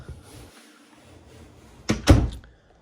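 A small storage door under the stairs of an old ranch homestead swings open with a couple of quick wooden knocks and a thump in an otherwise quiet room.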